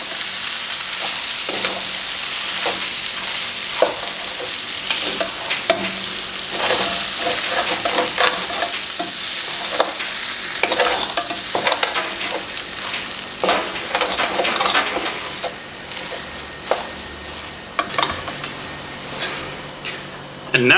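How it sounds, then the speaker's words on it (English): Chinese-Indonesian fried noodles with meatballs are stirred in a pan, giving a steady sizzle of frying with repeated scrapes and clinks of the utensil against the pan, close and loud for about twenty seconds. "So I'm going to stir this up."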